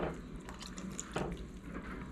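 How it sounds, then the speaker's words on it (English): Evaporated milk is poured into a pot of bacon corn chowder, giving a soft, brief liquid pouring and splashing sound, close and fairly quiet. "I'm going to pour some evaporated milk in here"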